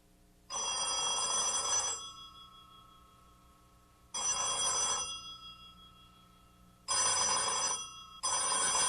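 An old-style telephone bell rings in an army office in separate, sharp metallic bursts of about a second or more, with quiet gaps between them. A fourth ring begins just after the third.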